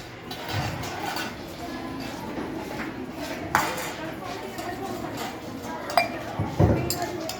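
Dishes and utensils being washed clink and clatter intermittently over a steady background hum, with a few sharper metallic knocks near the end.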